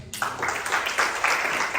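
A church congregation breaks into applause during a worship service, a dense burst of clapping that starts abruptly and carries on steadily for a couple of seconds.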